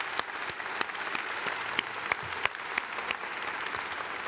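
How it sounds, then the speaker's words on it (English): A gala awards dinner crowd applauds steadily for a few seconds, with a dense, even wash of clapping and occasional sharper individual claps standing out, heard from a slight distance. "a great round of applause"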